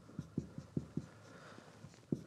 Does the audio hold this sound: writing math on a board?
yes